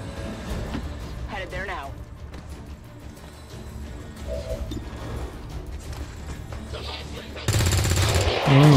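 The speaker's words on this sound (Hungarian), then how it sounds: "Azért az egy gyönyörű lövés volt." Gunfire from the video game XCOM 2 comes in rattling, rapid bursts with mechanical clatter and a loud volley near the end, under a Hungarian commentator's talk and game music.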